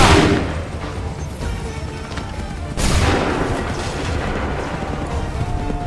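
Heavy artillery fire in Assassin's Creed III Remastered, a loud broadband boom opening the moment, then a second thunderous blast near the middle, each rolling out into a dense rumbling tail of battlefield noise.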